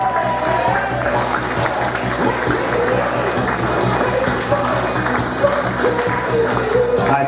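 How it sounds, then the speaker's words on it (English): Guests at a wedding reception clap as the bride, groom and wedding party are announced in, a loud, steady wash of applause under music and crowd noise, sustained throughout. "Keep the applause going, everybody, for TJ and Shonda."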